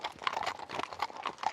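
Horse hooves clip-clop at a riding pace, a steady run of fairly close, distinct strikes that stay moderately quiet with no talking over them.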